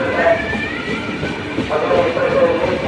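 A superfast express train pulls into Mandya station between Mysore and Bangalore, a steady rolling rumble with faint squealing wheel tones. A voice talks over it.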